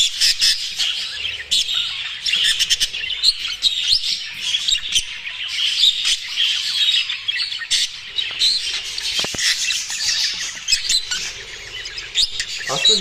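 Birds courting and mating on the ground fill the air with dense, loud chirping and sharp squawks, a nonstop overlapping chatter of many calls close by.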